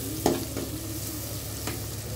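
Tomatoes with turmeric powder frying in a pan, a brief steady sizzle broken by a couple of quick spoon knocks and scrapes close by.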